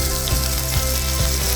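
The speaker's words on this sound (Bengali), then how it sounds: "এলাচ, লবঙ্গ, দারচিনি দিয়ে এবার চালগুলো একটু ভাজা ভাজা করে নেব" Rice fries in oil with cardamom, cloves and cinnamon, giving a loud, steady close-up sizzle. Spoon-and-pan scrapes break through at regular intervals, and no one speaks.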